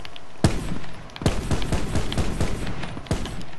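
Gunfire from a weapon in Call of Duty Black Ops 4, heard as a few sharp, close shots at irregular intervals, with quicker, lighter bursts in between.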